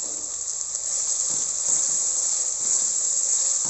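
Jollof rice cooked with a modest amount of oil simmering in a pot, giving a steady, close sizzling hiss that runs evenly throughout with faint low bubbling underneath.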